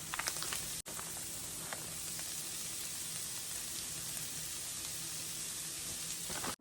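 Ground meat and caramelized onions sizzle together in a hot pan, giving a steady, close crackle and hiss that runs unbroken, with a brief knock near the start.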